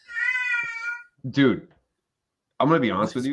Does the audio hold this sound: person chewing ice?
no